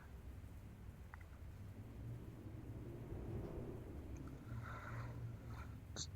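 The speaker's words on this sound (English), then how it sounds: "The storm rages against the glass ceiling" A thunderstorm rages against the glass ceiling of a gala hall, producing a steady, deep rumbling roar with a rushing, rain-like wash that swells slightly midway. No voices are heard.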